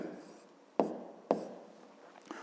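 Pen writing on paper during a 5th-grade maths exercise: two distinct scratchy strokes and a faint third, close and quiet, with no speech.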